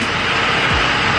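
A Ford Powerstroke diesel truck engine warms up, a brief, loud, steady roar close by with no break in the sound.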